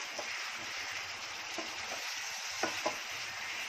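Masala frying and being stirred in oil and butter in a pan, a steady close sizzle with a few scraping stirs of the spoon, no voices.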